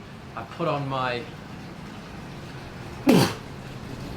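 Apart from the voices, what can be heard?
sneeze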